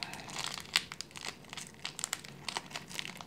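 Tape-sealed plastic packaging of a miniature Sylvanian Families dessert toy being pulled open up close, a run of uneven crinkles and sharp crackling tears with short pauses between them.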